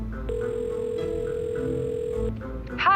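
A steady single-pitch telephone dial tone hums for about two seconds while a call is placed, then cuts off, with a brief warbling ring tone following at the end.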